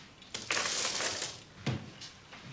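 Small change coins dropped and counted out onto a surface: a few close jingling, clattering bursts, one longer spill followed by a shorter one, fairly quiet with no talk.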